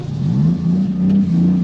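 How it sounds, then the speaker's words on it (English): Honda Acty kei truck with an aftermarket exhaust, its small engine revving close by in a steady, throaty drone that rises and dips slightly over a brief moment, no voices. "Sounds great with the exhaust too."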